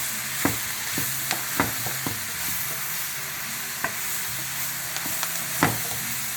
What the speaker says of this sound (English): While we have the mushrooms and onions on here sauteing